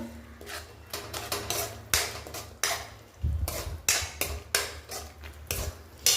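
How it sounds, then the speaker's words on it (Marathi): Masala is stirred and sautéed in oil in a pan, giving a quick irregular series of close metallic scraping and tapping strokes from the spoon against the pan, with faint sizzling beneath. "जोपर्यंत तेल सुटत नाही तोपर्यंत कंटिन्युअसली परतत राहायचं"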